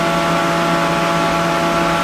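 A Citizen A32VII CNC Swiss lathe spindle turns at 500 RPM, giving a steady, close mechanical hum with layered tonal whine that holds even and unbroken throughout.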